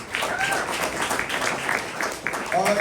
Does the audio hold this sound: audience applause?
yes